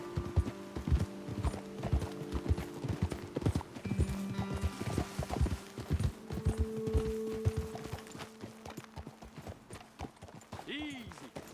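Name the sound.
horses walking, video game Red Dead Redemption 2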